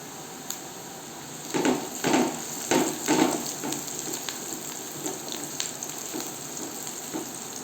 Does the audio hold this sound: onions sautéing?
yes